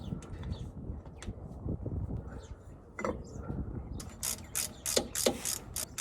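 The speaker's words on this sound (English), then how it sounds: "you're going to want to tighten in a crisscross pattern" Ratchet clicking as the four reused bolts are tightened on a Jeep JL plate, close rapid pawl clicks in short runs over low background noise, with birds cooing faintly nearby.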